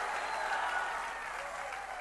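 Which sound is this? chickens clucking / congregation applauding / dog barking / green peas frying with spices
congregation applauding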